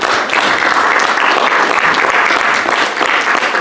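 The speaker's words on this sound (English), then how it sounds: "Let's give a big round of applause to everybody." Loud, dense applause from an audience at a storytelling event thanking the performers, a sustained roar of clapping close and full without a break.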